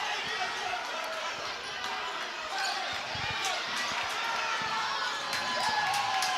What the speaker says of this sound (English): Crowd getting a little rowdy here.